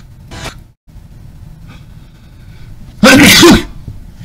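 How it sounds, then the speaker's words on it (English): A single loud, sharp sneeze bursts out near the end, preceded by faint murmuring and a brief earlier breathy sound, with no clear talk around it. "Sorry, I sneezed."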